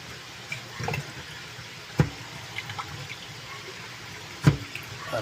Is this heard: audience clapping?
no